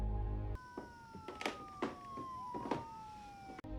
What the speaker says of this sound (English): the sharp wail of police sirens cut through the air outside